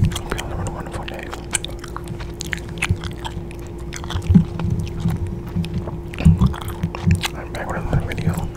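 Gum chewing heard close up, with soft irregular mouth clicks and smacks repeating through the clip, beneath a steady low hum and quiet whispery breaths.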